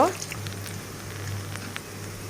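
Eggs frying in oil in a pan, a soft steady sizzle with light crackles and pops, fairly quiet and close, with a voice speaking over it.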